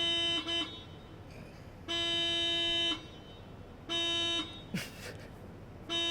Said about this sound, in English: Who's honking right now?